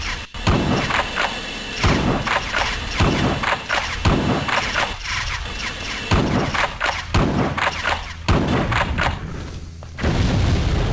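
Heavy explosions in The Terminator: Future Shock video game, a rapid series of loud booms and thuds repeating every second or two with no pauses between them.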